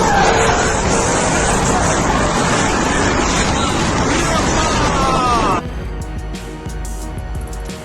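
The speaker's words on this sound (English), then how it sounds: "The wheels spin, but the truck cannot move an inch." A heavily loaded truck stuck on a snowy, icy road, its wheels spinning with a loud rising whine and rushing hiss for about five seconds, then cutting to quieter background noise.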